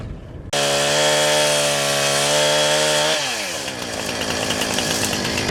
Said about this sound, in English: Got my chainsaw all fixed up.